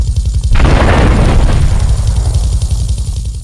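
A loud, booming helicopter explosion from a rocket launcher hit in GTA 3 bursts out and rumbles on heavily, with a dense crackling roar that slowly fades away.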